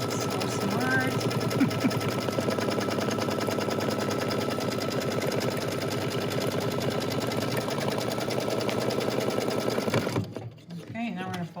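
A Brother Luminaire embroidery machine stitches continuously at a rapid, even pace for about ten seconds, loud and close, then abruptly stops, with faint talking in the background.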